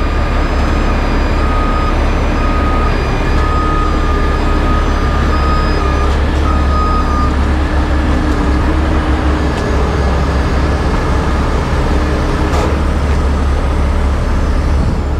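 A truck backs up while hauling away a destroyed trailer, its reversing beeps repeating over a loud, steady engine rumble and outdoor noise.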